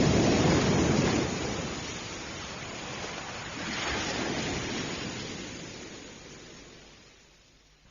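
Ocean waves on a beach at night rolling in as a steady broadband roar that swells and slowly fades, heard alone with no voices.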